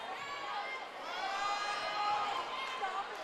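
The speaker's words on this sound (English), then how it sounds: "In front of a loud crowd here at the Cougar Den." A loud crowd at a high school volleyball match in the Cougar Den gym, with a continuous wash of cheering and shouting voices swelling and fading, close and energetic.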